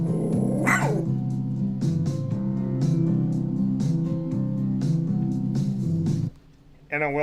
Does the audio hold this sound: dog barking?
yes